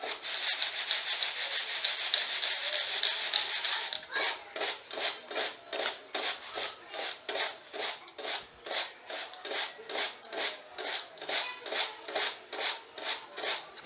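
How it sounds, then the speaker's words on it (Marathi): Urad dal is winnowed by hand to separate the husks, first a steady shaking hiss of grains, then a rapid rhythmic series of swishing tosses, close and regular. "अशा प्रकारे आपलं हे जे उडीद आहेत ते पाकडून घ्यायचे आहेत।"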